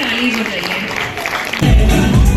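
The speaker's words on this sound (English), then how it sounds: "can you all clap for yourselves?" Audience of parents and children clapping for themselves at a kids' awards event in Gurgaon: a steady wash of crowd clapping mixed with voices and babble, growing louder toward the end.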